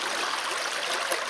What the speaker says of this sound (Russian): Вода, на удивление, чистая, хотя ручей очень мелкий